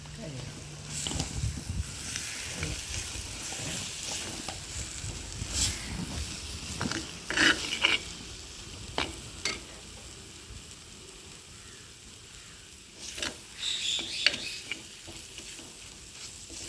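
Spiced ivy gourd curry being stirred in a pan makes faint scraping strokes and a low sizzle, with sharper clatters of the spoon scattered through it and a quiet voice in the background.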